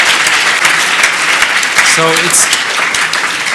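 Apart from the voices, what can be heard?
conference audience applause for hotel staff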